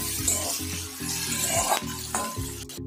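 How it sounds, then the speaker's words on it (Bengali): Onion, garlic cloves and green chili fry in a pan, sizzling steadily while a utensil stirs and scrapes them in repeated strokes close by. "দিয়ে দিয়েছি পেঁয়াজ, সঙ্গে আছে কিছু রসুনের কোয়া, আর হচ্ছে কাঁচা লঙ্কা, এগুলোকে ভালো করে ভেজে নেবো।"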